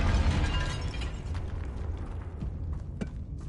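Confringo blasting spell exploding in the Hogwarts video game, a heavy boom up front that rumbles and decays into creaking, crackling debris with a few sharp pops afterward.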